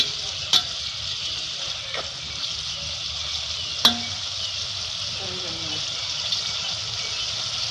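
Makelele, small dried fish, frying in oil in a pan with a steady bright sizzle throughout and a few sharp clinks of a utensil against the pan.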